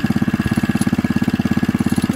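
Kohler K91 single-cylinder engine on a Wheel Horse RJ58 garden tractor idling steadily, a rapid even chug of firing pulses close by, running alone with no voices.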